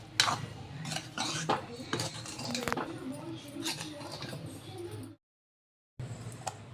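A spoon stirs sugar into lemon pickle in a cooking pot, giving quiet clinks and scrapes against the metal in a steady irregular patter, broken by a short silent gap near the end.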